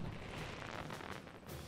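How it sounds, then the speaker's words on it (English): Dense, continuous explosions and gunfire-like booms from the side-scrolling action game Broforce, loud and chaotic with no pauses across the short stretch. "There's a lot of explosions going on down there"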